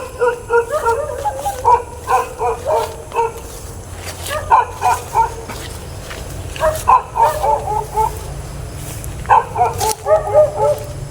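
A dog barks in repeated bursts of sharp yips and bow-wows, several volleys separated by short pauses, fairly close over a low background hum.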